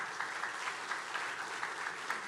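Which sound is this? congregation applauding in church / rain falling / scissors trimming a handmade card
congregation applauding in church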